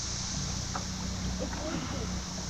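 A small boat runs upriver on a trolling motor, giving a low, steady electric hum with faint wind and water wash around it.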